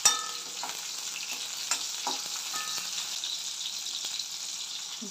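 Stuffing for bitter gourd, made with lemon and a little tamarind, is stir-fried in a pan: a continuous close sizzle broken by occasional spatula scrapes and clacks.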